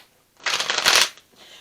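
A single quick riffle of a deck of oracle cards, close and crisp, a burst of papery flutter lasting under a second, followed by a faint softer rustle.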